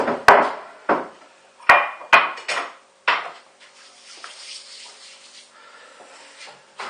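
Kitchen pans, dishes and utensils clatter on a counter while a cooking workspace is cleared, with several sharp knocks and clunks in the first few seconds, then a quieter stretch of light shuffling and faint movement.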